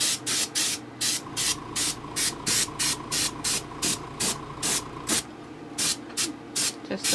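Rapid bursts of airbrush spray hiss as a light coat of paint goes onto a Nike Air Force 1 sneaker, about twenty short pulses in a steady rhythm, close and loud, with a faint mechanical hum beneath.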